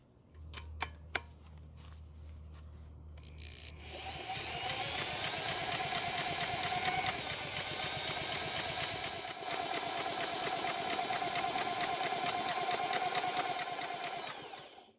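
A Honda lawn mower engine is cranked over, starting with a few sharp clicks and a low hum before a steady, loud mechanical whirring with a rapid pulsing rhythm takes over and runs continuously.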